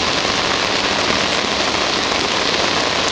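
Heavy rain pounds steadily on a boat lying at anchor off Gibraltar, a dense, loud, unbroken roar of drops on the deck and water with no voices.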